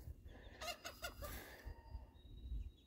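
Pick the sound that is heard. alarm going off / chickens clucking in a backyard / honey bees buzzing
chickens clucking in a backyard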